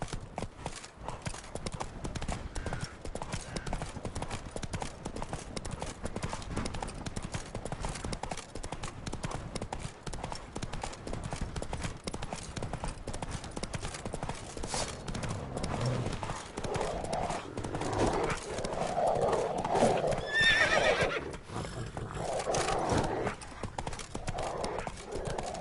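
A horse gallops in a video game with rapid, continuous hoofbeats and loud neighs and whinnies partway through.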